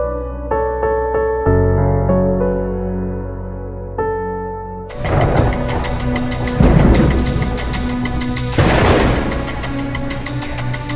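Music plays for about five seconds, then heavy rain hisses steadily at night while rolling thunder rumbles and swells underneath, loud and close.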